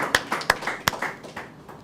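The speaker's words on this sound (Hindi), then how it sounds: "आपकी जोरदार तालियों के बीच" Audience applause for a poet at a Hindi kavi sammelan: sharp clustered claps that swell, then thin out and fade within two seconds, close and fairly loud with no voices.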